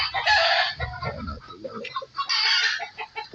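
Chickens in a coop, including a hen with her chicks, clucking and calling in close bursts, with chick peeps and overlapping bird sounds throughout.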